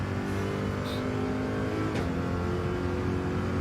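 Corvette Group 3 race car engine in Gran Turismo 7 during an online daily race, a steady loud droning hum with harmonic tones, a brief rev swell near the middle, and no talking.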